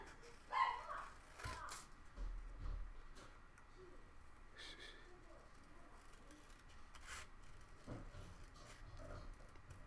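Dogs barking indoors in a home, faint and distant, a few scattered barks over a quiet room with soft rustling.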